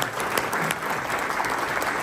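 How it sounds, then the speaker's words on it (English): A brief, dense round of applause from an audience at a community First Friday gathering, steady clapping throughout without talk. "Let's give a round of applause."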